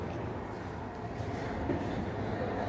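Steady rumbling ambience inside the main railway station in Odesa, a continuous low drone of trains with faint clatter, no clear speech.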